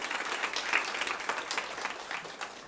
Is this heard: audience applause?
yes